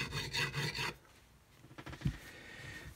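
A Squier Telecaster guitar body is rubbed and polished by hand, giving quiet rhythmic swishing strokes at first, then softer scattered rubbing with a brief knock, all faint and close.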